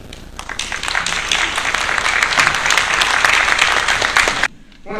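An audience at a town hall event applauds in a dense, loud wash of clapping that swells, holds steady, then cuts off abruptly near the end.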